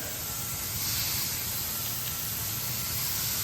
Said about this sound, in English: you throw the hamburger balls on here. Yeah, you hear that sizzle?